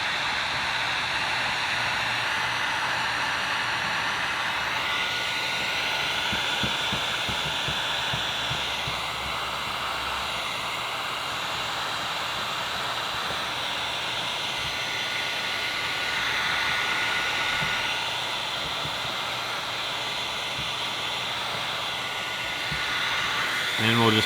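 A heat gun blowing hot air onto vinyl wrap on a Ford F-Series truck door handle, a steady close whooshing hiss running throughout, with quiet talking under it.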